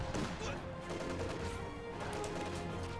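Ostwind flak tank firing during a Company of Heroes 2 battle, a dense, continuous barrage of sharp bursts and cannon pops layered over rumbling combat noise, loud throughout.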